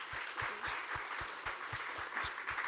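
An audience at a plenary conference session applauds warmly, a dense steady wash of clapping with a faint low rhythmic thumping underneath, sustained and even without voices.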